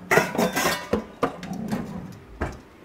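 A bowl is fetched and handled in a home kitchen while leek and bacon soup is being prepared. A few separate clinks and knocks of crockery sound close by, with short quiet gaps between them.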